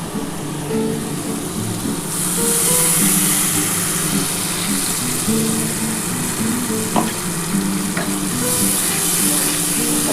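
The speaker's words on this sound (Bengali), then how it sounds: "ভালো করে কষিয়ে নিই আর এর মধ্যে কিন্তু আমার সর্ষে পোস্ত টক দই কাঁচা লঙ্কা সবটাই দেওয়া আছে" Pomfret curry masala with mustard-poppy paste, sour yogurt and green chillies fries in a pan, making a close, steady sizzle that swells louder after a couple of seconds, with occasional spatula taps and a low hum underneath.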